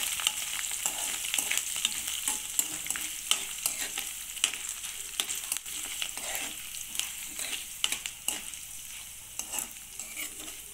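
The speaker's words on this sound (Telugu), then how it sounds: "తాలింపు బాగా ఎగిపోయిందండి" Hot oil sizzles loudly with rapid crackling and spluttering pops as mustard seeds and curry leaves temper, a close, busy frying sound with occasional stirring scrapes.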